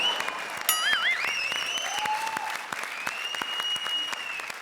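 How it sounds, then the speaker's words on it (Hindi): A comedy show's studio audience breaks into loud, sustained clapping, with bright tonal sounds rising briefly over the applause. "जरा जोरदार तालियां"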